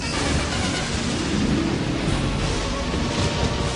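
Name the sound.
thunderstorm with pelting rain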